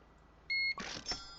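Cash register beeps while ringing up customers in the Alien Market Simulator video game: a short steady electronic tone, then a burst of scanning and rattling checkout noise, alone and fairly loud.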